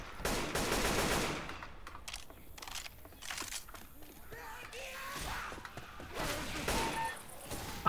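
Bursts of automatic gunfire crackle in the zombie shooter Left 4 Dead 2, quick rattling volleys that come and go with mechanical clicks between them.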